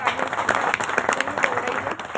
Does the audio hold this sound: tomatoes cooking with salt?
no